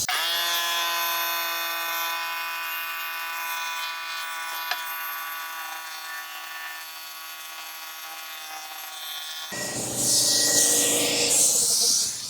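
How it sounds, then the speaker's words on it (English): An air compressor runs in a garage during a radiator job on a 1961 Buick LeSabre, building from a steady motor drone with a bright tonal whine to a loud hissing rush near the end. "I think I need to turn on my air compressor, so it's gonna get a little loud"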